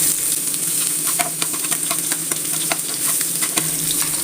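Masala sizzles steadily in hot coconut oil in a pan as it is stirred for mackerel fry, a continuous crackle with scattered sharper pops and no talking.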